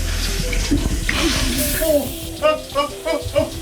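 Shower water splashes and runs steadily in a bathroom, with a voice speaking over the spray toward the end.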